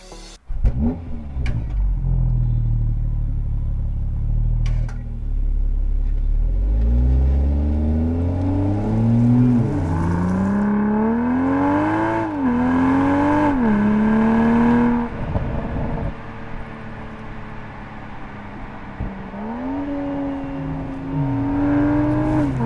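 BMW M440i xDrive Coupe G22 engine pulling hard under acceleration, rising through the revs with several gear changes and a deep, loud note heard from inside the car, no talking.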